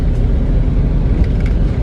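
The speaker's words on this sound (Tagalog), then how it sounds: "Gumana na rin yung sasakyan na breakdown." A repaired car that had broken down runs steadily, its engine giving a continuous low rumble close by with no voices over it.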